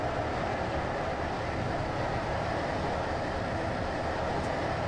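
Train rolling into a station in a video game, a steady, loud broadband rumble of wheels and carriage noise running continuously without a break.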